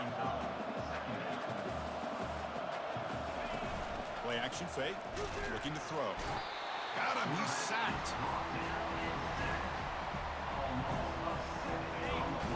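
Loud stadium crowd roars throughout a college football video game, TCU facing Indiana, a steady dense wash of cheering under excited play-by-play commentary describing a sack.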